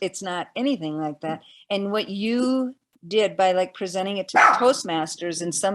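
Dogs bark in the background during a conversation, with a sharp bark or two cutting briefly through the steady talk.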